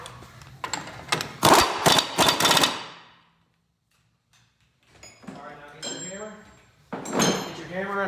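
Hammer and punch striking a spindle nut on a car's CV axle hub, a close burst of sharp rapid metallic blows, then silence, then someone talking.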